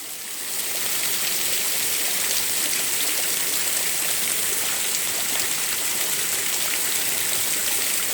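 Heavy rain pours steadily onto a residential street, a dense, continuous hiss and patter that stays loud and even throughout with no voices.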